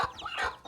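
A hen with her chicks gives a few short, close clucks and soft calls on a poultry farm, a quick burst of fowl sounds with no talking.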